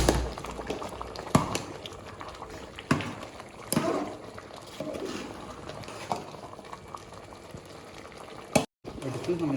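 Water for chicken biryani bubbles in a pot as it boils down in the final simmer, a soft continuous seething broken by a few sharp clicks and knocks, fairly quiet and close.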